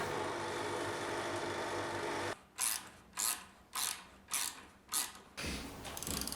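A countersunk coach screw is driven into a woodworking station base frame, heard as five evenly spaced ratcheting bursts after a steady whirring hum, close and fairly quiet.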